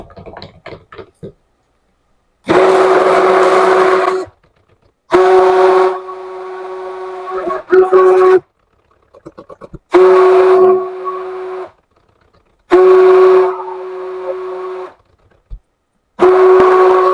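Green watermelon-scented goat milk soap batter is blended in bursts with a mixer: loud steady whirring runs of a couple of seconds each, separated by short pauses, with faint clatter in between.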